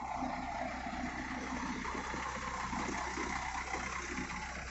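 A Hydromac backhoe loader's diesel engine idles steadily, a low continuous rumble with a faint even knock, moderately distant and quiet.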